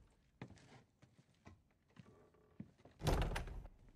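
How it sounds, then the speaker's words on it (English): A door closing in The Last of Us, with faint shuffling and small knocks followed by a solid, close thunk as the door shuts. "He closes the door behind them"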